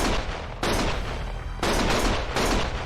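Dense, continuous bursts of automatic gunfire in the action video game Lost Judgment, with three loud volleys separated by brief lulls and no talking.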